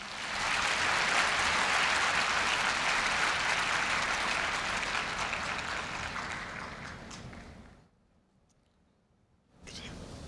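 Applause at Korea University's 2015 freshman entrance ceremony: a large crowd claps loudly and steadily, fading gradually into near silence before a fresh wave of clapping starts at the end.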